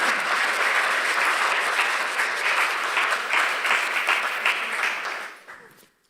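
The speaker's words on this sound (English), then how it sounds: "Maybe a round of applause for a little bit of encouragement." Sustained audience applause at a culture and creativity event, loud and steady for about five seconds before quickly fading out.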